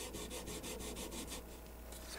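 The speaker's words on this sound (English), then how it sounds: "just spend a little time sanding like this" A wooden block wrapped in 40-grit sandpaper is rubbed back and forth to shape a wooden form for a side bending machine. The strokes are quiet, rhythmic and scratchy, with no voices.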